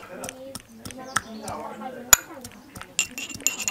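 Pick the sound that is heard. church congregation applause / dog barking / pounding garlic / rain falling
pounding garlic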